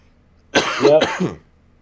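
A man lets out a short, close throat-clearing cough, one rough burst with a quick second push, then silence.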